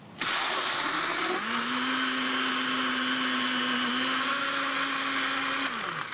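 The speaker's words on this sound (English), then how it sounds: "And we're ready to turn on the blender." A blender mixing a cocktail whirs up and runs at a steady, loud drone for several seconds, then winds down abruptly. No one speaks over it.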